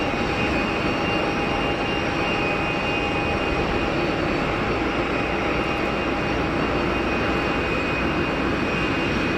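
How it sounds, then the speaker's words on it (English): A Boeing 787 Dreamliner jet airliner roars steadily at Geneva Airport, a loud, continuous broadband engine rush with a faint high whine, unbroken for the whole stretch with no voices. "Such a great looking aircraft, the Dreamliner"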